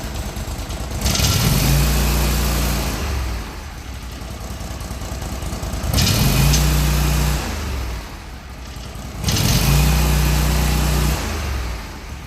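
A Kohler 25 hp small engine just back from a head gasket replacement, revved in three loud surges that rise and fall back to a rough idle, close up with no talking.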